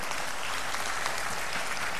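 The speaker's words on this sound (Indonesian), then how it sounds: "Kita berikan tepuk tangan kepada" Dense, continuous applause from a large audience at a Master of Health Law graduation ceremony, an even wash of many hands clapping without pause.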